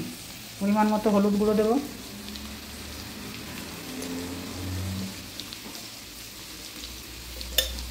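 Ginger and spices fry in hot oil for a vegetarian cabbage curry, a steady close sizzle with occasional stirring clinks, while someone speaks briefly at the start.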